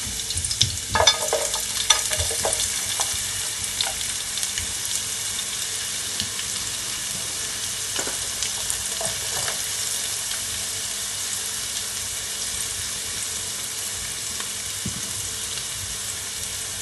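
Garlic and onions sautéing in a spoonful of vegetable oil in a pot, giving a steady broadband sizzle throughout with a few brief stirring clicks near the start.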